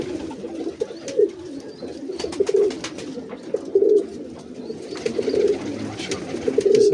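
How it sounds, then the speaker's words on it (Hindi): Pigeons coo repeatedly in soft, rhythmic bursts over a steady low murmur, with a few chirps from other birds scattered through; the flock of racing-type pigeons sounds close and moderately loud. "ये कबूतर आपको पिपलों में भी नजर आएंगे क्योंकि असद खान लेके गया हुआ है"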